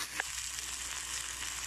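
Okra sizzles and sputters steadily in a hot pan while being sautéed, a soft continuous frying hiss with a brief clink near the start.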